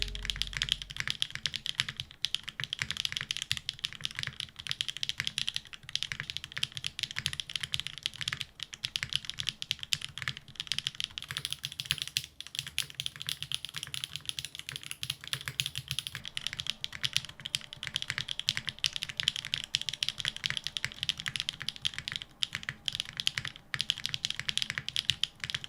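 Steady, continuous typing on a Neo65 CU mechanical keyboard fitted with GMK Hennessy keycaps and no foam inside, with dense rapid keystrokes clattering close-up and no voices throughout.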